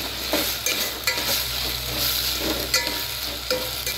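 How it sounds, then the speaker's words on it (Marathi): Ginger garlic paste frying in a pan for veg pulao, a close continuous sizzle punctuated by sharp taps and scrapes of a spoon stirring, with no talking. "1 चमचा आलं लसूण पेस्ट टाकू. चांगलं परतून घ्या."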